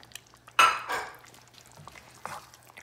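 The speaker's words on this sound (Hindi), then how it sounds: "अब मैं चिकन को शामिल कर रही हूँ। चिकन को अच्छी तरह से मिक्स करके" Chicken pieces being stirred and mixed in a pan for green masala chicken, with a loud scrape and clatter near the start, then softer spoon knocks and shuffling against the pan.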